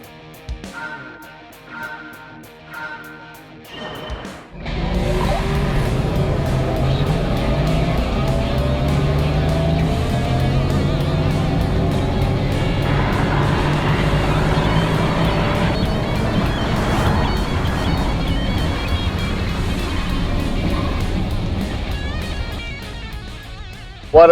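Mercedes-AMG EQS and Porsche Taycan 4S launching side by side in a drag race, a loud sustained rush of electric motors and tire and wind noise building after a quiet start, with no talking.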